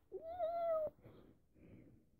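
A pet cat gives one clear, close, drawn-out meow, followed by faint quiet rustling and room noise.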